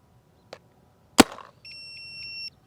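An Empire Axe 2.0 paintball marker fires, one faint pop followed by a sharper, louder shot, then a steady electronic beeping tone from nearby equipment in otherwise quiet surroundings.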